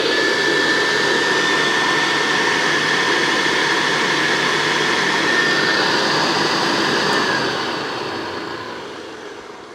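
A refurbished vintage Hoover Senior 6525C upright vacuum's motor runs with a steady, loud, breathy whirr and a faint high whine, holding constant before beginning to wind down at the end.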